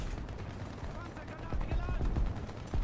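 Tank cannon fire and battlefield rumble in the War Thunder ground battle, with a Super Pershing and a T-32 in play, heavy and continuous, with loud booming swells throughout.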